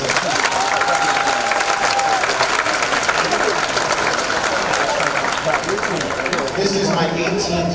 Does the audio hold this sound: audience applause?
yes